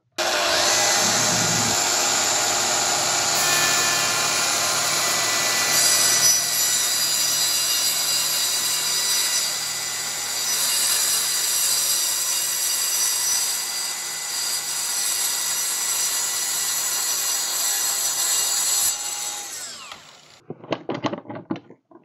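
A Festool TSV60 plunge saw rips through a clamped wooden board, its loud, steady high-pitched whine holding for about twenty seconds before the blade spins down and stops, followed by a few clicks.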